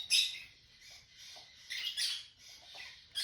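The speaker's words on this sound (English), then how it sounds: "I'm so sorry if my birds are too noisy." Pet birds chirping indoors, a scatter of high, thin tweets and squeaky calls in uneven bursts, faint and nearby, with no voices.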